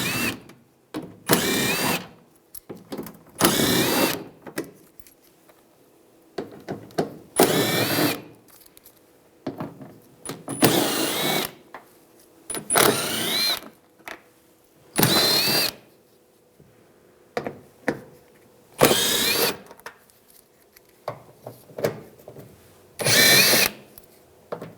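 A power tool with an 8mm socket removes wheel well screws on a 2011–2018 Ram 1500 in repeated short whirring bursts. About ten close, loud runs are separated by quiet pauses and small clicks.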